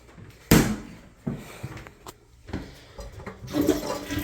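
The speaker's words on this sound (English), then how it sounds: "And we'll flush the toilet." A household toilet flushes with a sharp start of rushing water, then gurgling and draining surges with a few knocks and a second swell near the end, heard close up in a bathroom with no speech.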